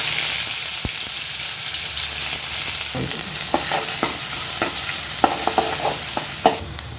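Onion and fennel seeds hit hot oil in a kadai, giving a loud, continuous sizzle broken by frequent stirring scrapes and clicks. No voices are heard.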